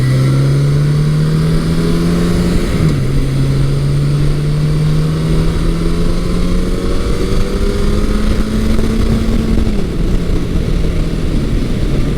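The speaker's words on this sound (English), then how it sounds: "The more you rev it, the more it pulls." A 1983 Suzuki GS1100E motorcycle engine revs loud and close, its steady drone climbing in pitch as it accelerates, with a brief drop at each of two gear shifts.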